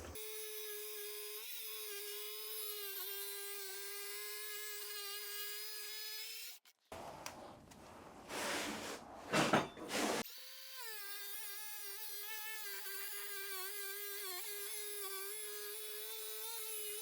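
An angle grinder with its guard removed, fitted with a Montolit porcelain blade, cuts 12x24 tile freehand. It whines steadily and loud for several seconds, stops briefly amid scraping and handling noise, then spins up again into a long sustained cut.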